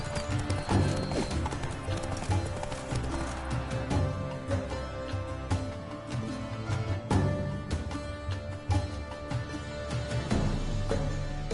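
Roach the horse gallops in The Witcher 3, hooves drumming in a fast, steady clip-clop rhythm throughout, with a whinny breaking through and constant game ambience underneath.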